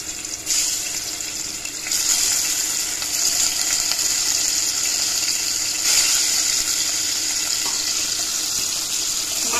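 Turmeric- and salt-rubbed fish fry in hot oil, sending up a steady, close hiss of sizzling that swells a little as pieces settle, with no talking over it.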